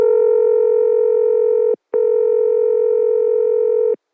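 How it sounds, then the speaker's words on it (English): Telephone tones from a Dan Ray switch: a steady buzzing tone with strong harmonics holds for nearly two seconds, cuts off briefly, then resumes for another two seconds before stopping, loud and close. "the timing on the tones, the ring, and the reorder does tend to hiccup every now and then"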